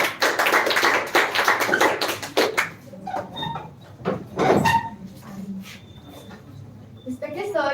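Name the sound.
audience clapping for a speaker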